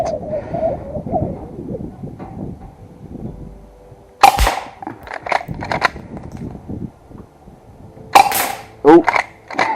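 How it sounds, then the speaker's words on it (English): A Golden Eagle M1887 airsoft shotgun firing single BB shells: two sharp, close cracks several seconds apart, each followed by brief mechanical clatter, over a low murmur of background noise. "Shooting test 3, see what she can do. Still on 1 BB per shell."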